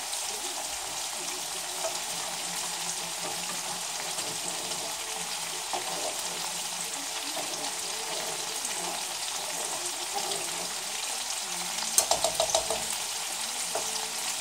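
Chicken, broccoli and bacon fry in a pan with a steady, even sizzle that holds throughout, a brief clatter of stirring near the end; no one talks.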